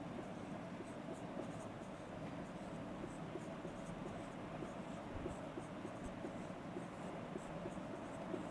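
Pen writing electron configurations of f-block elements during a chemistry lesson, faint, close scratching strokes continuing under a steady background hum with brief pauses between marks.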